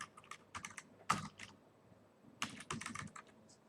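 Quick clicking keystrokes on a computer keyboard as a registration number is entered, two bursts of close, crisp taps separated by a short pause, quiet and without speech.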